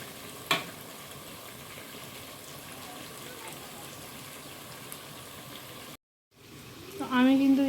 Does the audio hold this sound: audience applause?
no